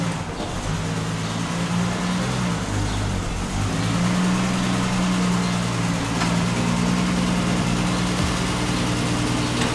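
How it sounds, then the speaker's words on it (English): A 1974 Triumph TR6 engine runs steadily in the background, a low, continuous hum with even loudness throughout and no voices over it. "there's a TR6 pulling into the background. It's a 74 TR6."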